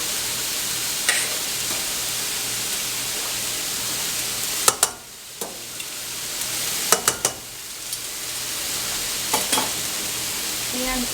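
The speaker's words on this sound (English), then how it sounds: "So I'm going to give this a little stir. Get those pasta noodles separated." Pasta noodles stirred in a pot of boiling water, with a constant hiss of bubbling and several clanks and scrapes of the spoon against the pot at intervals.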